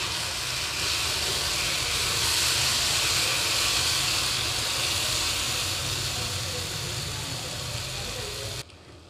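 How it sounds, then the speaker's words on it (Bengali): Eggplant pieces frying in a pan with potatoes, a steady broad hiss and sizzle holding evenly throughout before cutting off abruptly at the very end. "আমি বেগুন দিয়ে দিয়েছি, বেগুনটা ভালো করে ভেজে নেব"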